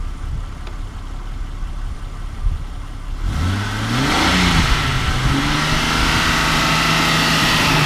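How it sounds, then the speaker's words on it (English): A 2001 Jeep Cherokee XJ, rear-wheel drive, fully warmed up, starts running after about three seconds of quiet, then revs briefly and settles into a steady, fairly loud idle close by with no talking. "I don't know if you can hear the engine or not."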